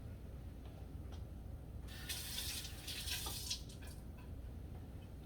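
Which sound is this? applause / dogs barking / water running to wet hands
water running to wet hands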